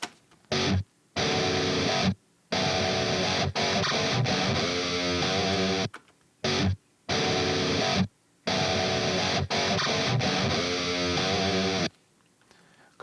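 Dense, distorted electric guitars in a pre-edited recording play tight rhythmic chugs, loud and full, with several abrupt gaps of silence between phrases.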